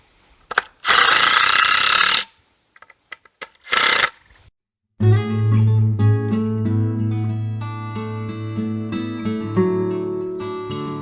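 Two short, loud bursts of a power drill drive screws into wood while a goat milking stand is assembled. Brief clunks and quiet gaps come between the bursts, and then music takes over for the rest.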